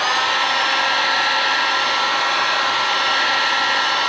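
Hot air blows steadily from a hair dryer or heat gun, warming a part on a vintage Honda CL350 motorcycle; a continuous, even broadband whoosh runs alone and close without pause.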